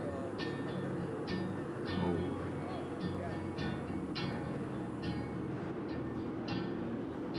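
A train in Seoul rolls along with a steady broadband rumble, marked by regular sharp clacks from the rails every half second or so. The sound is continuous and fairly close, with no speech.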